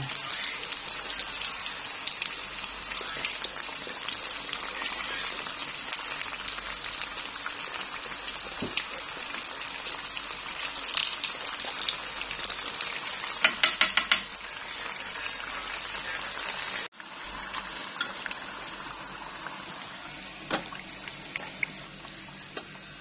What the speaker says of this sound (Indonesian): tempenya aku goreng